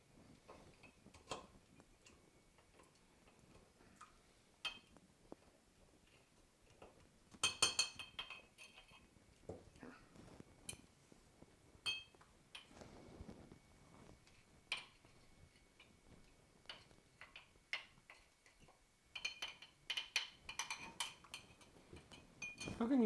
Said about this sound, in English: Just going to put the muddler in.